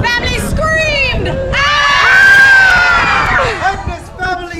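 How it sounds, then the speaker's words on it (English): A street-performance crowd screams and shrieks together in one loud, drawn-out swell with high overlapping voices, then trails off into shouting. "Romeo's family screamed!"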